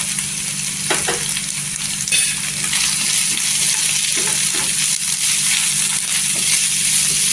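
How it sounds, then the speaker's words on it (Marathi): Spice powders, including Kashmiri red chilli, turmeric and Agri masala, sauté in hot oil for an eggplant curry, a close continuous sizzle with stirring scrapes and occasional crackles. "मसाल्याचा कच्चा पण निघेपर्यंत तेलावर परतून घ्यायचं"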